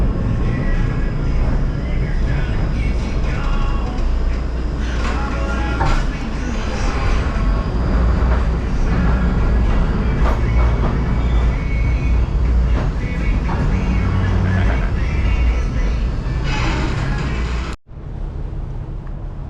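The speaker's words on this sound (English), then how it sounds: "This is a Tampa streetcar." Tampa streetcar rolling through the historic Ybor City neighborhood, a loud, continuous rumble with rattling and mechanical noise lasting nearly the whole time before cutting off abruptly near the end.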